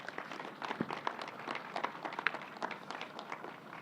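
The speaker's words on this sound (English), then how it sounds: "Let's give them a round of applause" Scattered applause from a small audience at a government press briefing, distinct individual claps in a loose, uneven patter, fairly quiet and somewhat distant.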